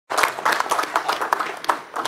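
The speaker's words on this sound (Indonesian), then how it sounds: "Tepuk tangan dulu." An audience applauds at an Indonesian parliamentary gathering honoring an honorary doctorate, a dense steady patter of many hands clapping close and loud for about two seconds, with no talk over it.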